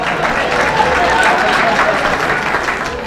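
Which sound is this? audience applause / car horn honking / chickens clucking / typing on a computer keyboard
audience applause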